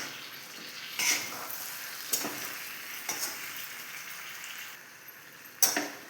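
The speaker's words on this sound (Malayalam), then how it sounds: "എല്ലാം കൂടെ നന്നായിട്ടൊന്ന് മിക്സ് ചെയ്തെടുക്കാം" Chicken tossed with curry leaves in a hot pan for ghee rice and chicken, a steady close sizzle with spatula scrapes and stirring clinks recurring every second or so, one sharper knock near the end.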